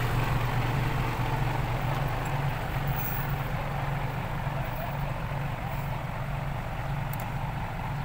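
A modified car engine with a loud aftermarket exhaust holds a steady, heavy low drone, running continuously and fairly loud with no voices.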